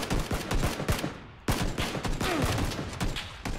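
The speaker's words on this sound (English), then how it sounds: "I'm getting shot from rocks." Rapid bursts of gunfire in the battle royale game PUBG crackle in dense volleys, sharp close shots stacking over one another with a brief lull before another loud barrage.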